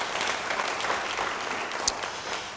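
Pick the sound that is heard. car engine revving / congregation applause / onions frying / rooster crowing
congregation applause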